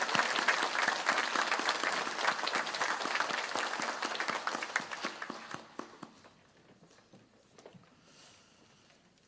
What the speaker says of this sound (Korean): 힘찬 박수로 하나님께 크게 영광을 드립니다.